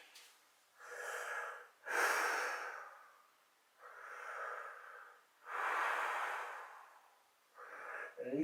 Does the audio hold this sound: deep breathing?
yes